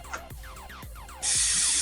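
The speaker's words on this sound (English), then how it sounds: "Now we're going to be spraying the medium bowl with cooking spray." Cooking spray hisses from a can into a medium mixing bowl for baking cereal bars, one steady spray burst of about half a second that starts abruptly after quieter kitchen sounds.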